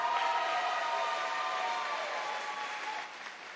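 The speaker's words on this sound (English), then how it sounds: "Let's have a massive round of applause for our gold medalist." Audience applause for a gold medalist at a national open swimming championship, a dense, steady wash of clapping from a large crowd in an indoor pool venue that fades slightly toward the end.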